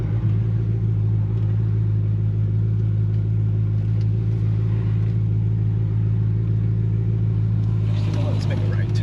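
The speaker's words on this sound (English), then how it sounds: "Hopefully you guys can hear me over the sounds of my car." Dodge Charger engine pulling in low gear while driving, a loud steady low drone with a deep rumbling hum, and a voice talking over it toward the end.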